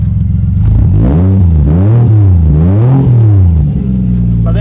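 A Nissan S13 with a 1JZ engine is heard at the exhaust from close range, idling low and then blipped through a few smooth rising and falling revs before settling back to idle.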